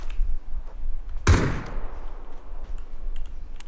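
A single loud gunshot rings out in the video game PlayerUnknown's Battlegrounds, a sharp crack with a decaying tail, set against low ambient game noise.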